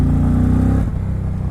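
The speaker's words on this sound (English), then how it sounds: "Indian bike sounds really nice" Indian Challenger Dark Horse motorcycle engine, a loud, close, deep throbbing idle with steady low harmonics that dip and shift as the revs change, heard alone without speech.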